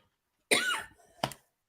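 Coughing up close: one harsh, rasping cough burst followed after a short pause by a second, briefer cough, with silence around them.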